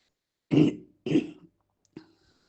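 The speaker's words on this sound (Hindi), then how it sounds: "मुझे खांसी हो रही है" Two short, throaty coughs in quick succession, followed by a softer third catch of the throat, close and alone in quiet.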